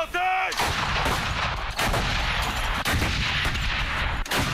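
Artillery fire from a military battle, heavy booming blasts rolling continuously with several sharp reports, loud and close, dense rumble filling the whole stretch.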